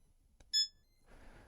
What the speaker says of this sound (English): I heard it beep